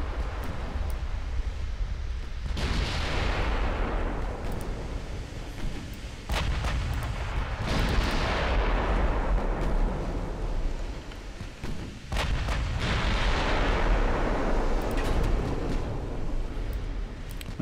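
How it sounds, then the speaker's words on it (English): Heavy warship guns fire in a naval battle in Ultimate Admiral: Dreadnoughts, targeting a battlecruiser. Several booming salvos come a few seconds apart, each with a deep rumbling roll that fades slowly, over a constant low background. "I'm gonna get my guns firing on the battle cruiser."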